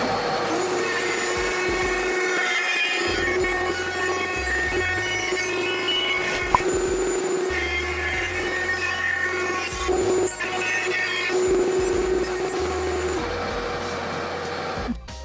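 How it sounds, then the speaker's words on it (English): A shop vac running through a Dust Deputy cyclone for router table dust collection while building a DIY guitar, a steady loud drone with a whining tone that holds throughout, broken by occasional knocks. "let me get my dust collection going"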